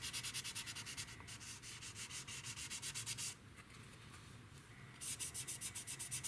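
Light sanding across the surface of a Tamiya P-47M plastic model kit, with quick rhythmic back-and-forth rasping strokes, close and clear, pausing briefly midway before resuming.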